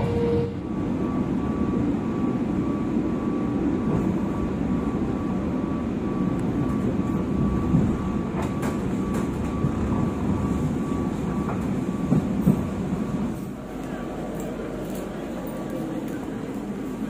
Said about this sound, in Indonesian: Kereta api Gaya Baru tidak lama lagi segera tiba di stasiun